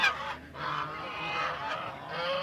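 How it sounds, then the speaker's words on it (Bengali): Domestic geese for sale at Putia village market in Narsingdi give a few loud, nasal honks in quick succession, close by, over a faint market background. "বিভিন্ন সাইজের রাজহাঁস আছে"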